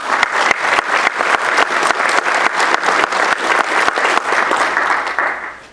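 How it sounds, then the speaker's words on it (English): A loud, full round of applause from the audience at a Kiwanis Club celebrity roast, many hands clapping together in a dense, continuous roar with a slight rhythmic pulse before it fades out at the close. "I want at this time to give yourself a round of applause."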